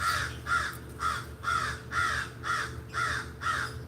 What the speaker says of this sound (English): The crows have something to say about this